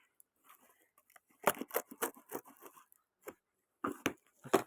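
Rustling and tearing of packaging around a boxed JBL keyboard and two-mouse combo, a few sharp bursts and quiet crinkles spread across several seconds, close by with no talking.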